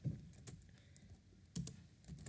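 Fingers type on a computer keyboard with a handful of soft, quick key taps, faint and close, with a slightly uneven rhythm and no voices.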